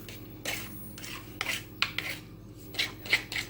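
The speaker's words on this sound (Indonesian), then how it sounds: "Lagi ulekan babe." Spices being ground for Betawi pesmol with a stone mortar and pestle, a series of close, rough rasping strokes and scrapes in an uneven rhythm, each stroke separated by short quiet gaps.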